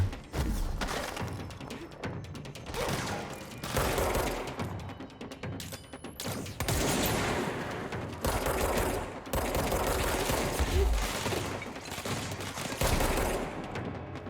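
The player's gun firing in Control: repeated loud bursts of rapid shots separated by brief pauses, with mechanical clatter between volleys.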